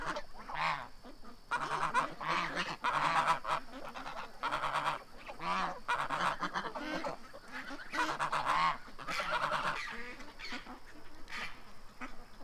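A flock of geese at a duck-feeding spot honks repeatedly in overlapping bursts, loud and close, with brief lulls between clusters of calls.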